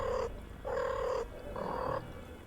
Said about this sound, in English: Listen to that little purr.